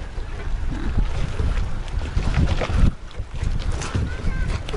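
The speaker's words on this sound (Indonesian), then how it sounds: "Iya, anginnya kencang." Strong wind buffets the microphone in a steady roar at sea near Banda Neira, with water sloshing and a boat engine rumbling underneath.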